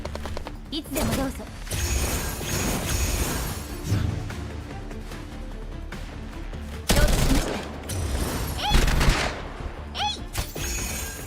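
A heavy machine gun module firing in GFL2, rolling bursts of automatic fire with crashing impacts and explosions, loud and near, layered over game sound effects.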